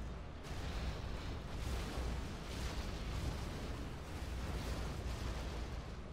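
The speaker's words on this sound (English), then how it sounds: "Scudstorm number 2 coming up" Scud Storm missile strikes in Generals Zero Hour land as a continuous, rumbling barrage of explosions, with dense low booms rolling together for several seconds at steady loudness and no voices.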